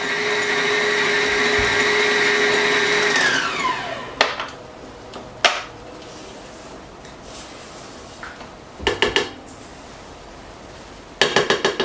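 An electric mixer beating Greek butter cookie dough hums loudly and steadily, then winds down and stops, followed by sharp knocks and clatter from bowl and utensils, close by.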